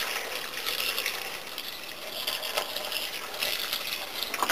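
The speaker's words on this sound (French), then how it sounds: "Ensuite, je vais ajouter de l'eau, donc de l'eau de source." Spring water pours into a cooking pot, a steady splashing gush that stays fairly even and close throughout, with no voices over it.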